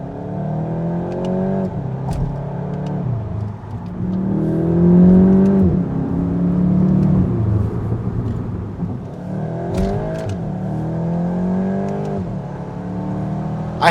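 A Volkswagen Golf GTI in sport mode accelerates hard at full throttle through the gears, its engine rising loud and close in repeated pulls with brief dips at the shifts.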